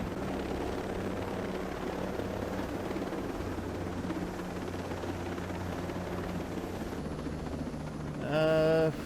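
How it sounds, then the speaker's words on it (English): A large helicopter flying low in the video game Ghost Recon Breakpoint, its steady rotor and engine drone filling the whole stretch, loud and near, with a brief rising whine near the end. "Of course I have the huge chopper, so we gotta land it awkwardly"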